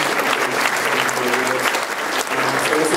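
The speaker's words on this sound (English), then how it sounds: "A round of applause." An audience at an awards ceremony claps in sustained applause, a dense wash of hands from a crowd filling the room.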